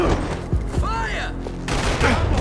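Gunfire in the video game Max Payne 3 bursts out as a loud rapid volley of shots, with shouting voices mixed into the chaotic exchange.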